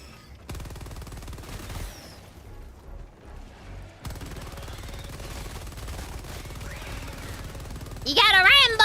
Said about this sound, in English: you gotta occasionally just not aim when using an LMG